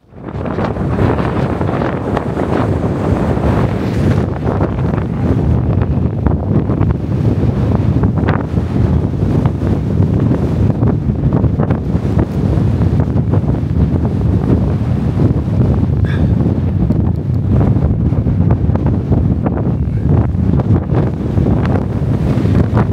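Strong wind roars continuously against the microphone while hiking in the Lake District, a dense, steady low rumble with no let-up throughout.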